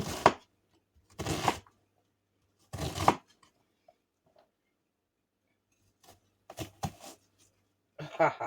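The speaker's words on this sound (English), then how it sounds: "Cut your onions up however large or small," Onions are chopped with a knife on a board in short, close bursts of cutting, a few strokes at a time separated by quiet gaps, with a brief voice near the end.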